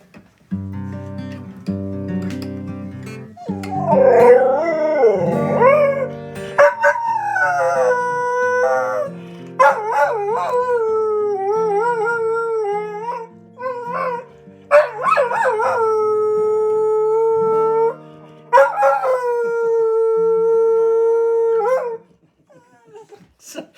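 A dog howls in long, rising and falling wails broken by short yips and whimpers, loud and close, with brief pauses between the howls and no talking.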